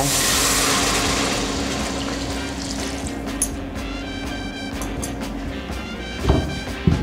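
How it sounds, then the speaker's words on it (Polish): Water poured into a pot of fried bacon and onion, a steady gushing pour that tapers off, with a few clunks near the end and no talk. "Zalewamy to wodą."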